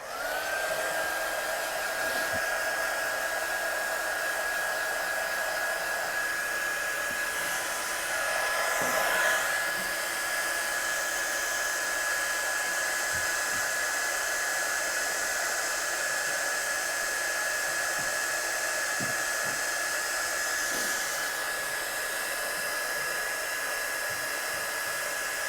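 A heat gun drying watercolour paint, a steady loud whirring blow with a constant high whine that runs unbroken for the whole stretch, close up and alone without talk.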